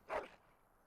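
A Mabari war dog in Dragon Age: Origins gives a single short, faint bark, heard once near the start and then fading into quiet.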